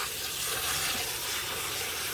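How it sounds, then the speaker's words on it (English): Cold water pours steadily into a large cooking pot, a close, continuous hissing rush that holds at an even level throughout. "get some cold water and just fill it up"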